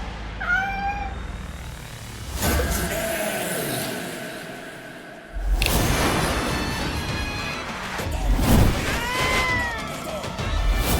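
A cat meows several times, with rising and falling cries at the start and later, mixed with abrupt bangs and dramatic music-like crashes in a noisy, loud scene.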